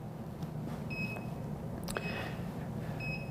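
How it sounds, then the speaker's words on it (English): Short high-pitched electronic beeps from an automotive scan tool running a full system clear repeat a few times at uneven intervals over a steady low hum of background machinery. "You should be able to hear the beeps."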